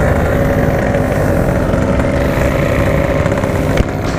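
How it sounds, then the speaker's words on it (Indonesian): Kawasaki Ninja RR motorcycle engine droning steadily and loudly throughout, as if riding along, with a brief click near the end and no talk. "Ngetes sama motornya Greg"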